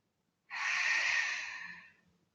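A single long, breathy exhale during a Pilates leg exercise, close and soft, lasting about a second and a half and fading out gently at the end, alone in a quiet room.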